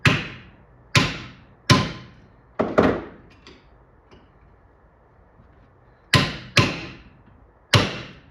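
Hammer strikes on an arcade cabinet part during a restoration, sharp loud single blows in uneven spacing, a quick cluster, a pause with faint knocks, then three more hits, no talk.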